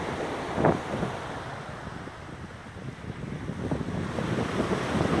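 Waves wash onto a beach near Othona while wind buffets the microphone, a steady rushing roar with a brief gust early on, loud and continuous with no voices.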